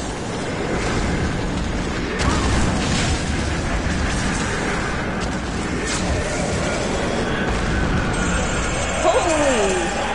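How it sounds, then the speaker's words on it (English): Dense, sustained rumbling blast from a video game, loud and broad throughout with a brief tonal swoop near the end; no talk over it. "Great explosion."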